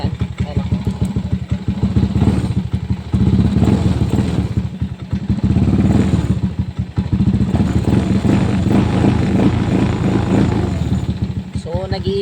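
A motorcycle engine revs as the throttle is twisted a little, its loud rumbling note rising and falling steadily close by, with someone talking over it.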